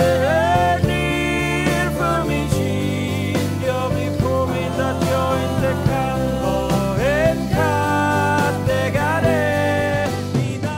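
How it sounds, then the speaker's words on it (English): Rough mix of a finished song recording plays alone, a dense full-band arrangement with sustained harmonic layers and a steady, loud level throughout. "And the rough mix sounds like this."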